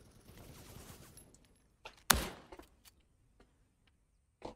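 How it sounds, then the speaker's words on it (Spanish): Gunfire in the browser shooter Krunker: a single sharp, loud shot cracks out after a quiet stretch, followed by a few fainter clicks and a later softer burst. "suena un disparo y ¡pum!"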